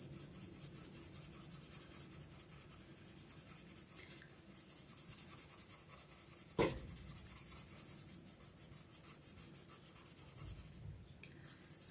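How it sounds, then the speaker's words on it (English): A colorless blending pencil scratches across colored-pencil pigment on paper in a steady back-and-forth rhythm, close and fairly soft, with one brief knock partway through. "I'm just using a colorless pencil to really push that pigment into the paper."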